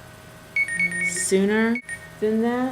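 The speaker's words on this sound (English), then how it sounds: "That's my phone reminding me that I have an appointment" A phone reminder alarm beeps in short repeated electronic tones, loud and close, while a person talks over it.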